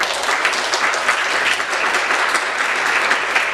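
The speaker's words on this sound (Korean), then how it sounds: "저희가 박수로 환영하겠습니다" A church congregation applauds to welcome a visitor, a dense, even wash of many hands clapping at once that holds steady throughout without pause.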